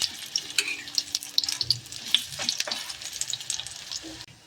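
Bitter gourd leaf fritters fry in hot oil, crackling and sizzling up close with sharp spitting pops and occasional stirring or pressing sounds, no talking.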